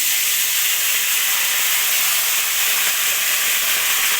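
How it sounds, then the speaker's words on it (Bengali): Vegetables spit and sizzle in hot oil after shrimp has been fried, a loud, dense, continuous hiss filling the whole stretch without talk. "এখানেই আমি এখন সবজিগুলো ছেড়ে দেবো এই তেলের মধ্যে"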